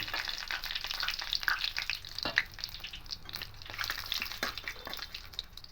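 Bay leaves and dried red chillies crackle in hot oil with whole cumin, a quiet, steady, broadband sizzle with small scattered pops throughout.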